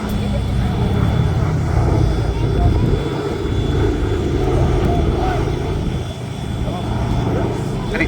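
B-17G Flying Fortress 'Sally B', a four-engine propeller bomber, flying a display at Duxford, a steady loud engine drone throughout, with a voice talking over it.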